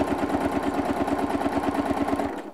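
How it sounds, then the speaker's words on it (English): A sewing machine free-motion quilting, its needle chattering in a fast, even rhythm of close-up mechanical stitching that runs steadily and then stops at the end. "I'm just going to cut right across those previously stitched lines."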